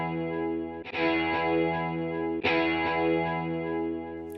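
A Zero-G Inspiring Guitar Kontakt instrument rings out in sustained, effects-laden chords, each new strum struck with a sharp, instantaneous attack; two strikes land about a second and a half apart, leaving a thick, shimmering tail.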